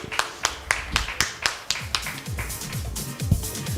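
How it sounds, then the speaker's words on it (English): Scattered clapping at a women's conclave and awards event at the Crowne Plaza in New Delhi, a few separate hand claps in a loose, uneven rhythm rather than a full ovation, with faint background murmur. "Can we have a round of applause for our second panelist?"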